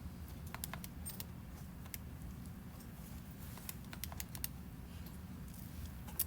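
Numbers keyed into a calculator, faint quick clicky button presses in an irregular run over a soft room hum, with no voice over them.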